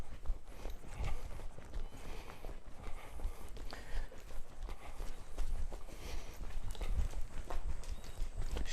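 A young horse canters under saddle on her first day learning the gait, her hooves drumming the ground in a steady rolling rhythm throughout, moderately close, alongside occasional snorts and tack noise.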